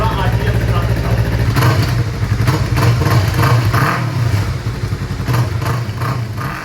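Yamaha R3 motorcycle on its current exhaust setup, running steadily near the mic with a low, continuous engine drone and slight fluctuations, no clear revs.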